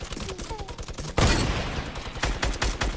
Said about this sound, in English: Yo, keep minigunning them.